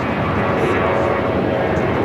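Loud, steady engine roar of an Atlas Air Boeing 747 on runway 25 left at LAX, a broad continuous rumble close by and lasting throughout.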